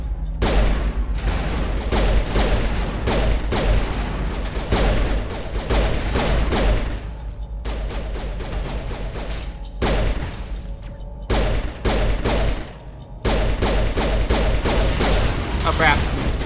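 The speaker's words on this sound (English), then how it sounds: "This is a pistol." Pistol fire from the Mass Effect Legendary Edition video game, heard as a steady barrage of loud, sharp shots mixed with battle effects and thuds, with brief pauses, while a voice talks over the combat.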